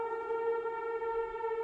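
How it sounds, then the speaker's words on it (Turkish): Civil defense siren inside the Roblox military game, a steady sustained wail held at one pitch, loud and alone with no talking. "Siren çalıyor."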